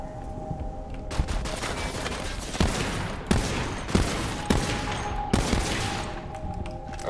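Video game gunfire in Borderlands 3, a weapon firing in three-round bursts: loud, sharp cracks recur every second or so over a steady dense background of battle noise, with no talking.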